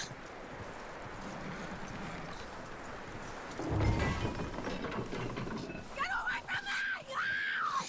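A horse's hooves clip-clop steadily in the Western video game Red Dead, growing louder partway through. Tonal, voice-like sounds rise near the end.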